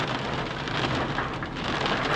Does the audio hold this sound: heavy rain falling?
yes